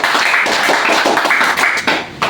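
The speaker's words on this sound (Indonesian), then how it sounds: "tepuk tangan buat kita semua" A class of students claps their hands together, a dense burst of quick overlapping claps at close range, fading briefly before a final flurry.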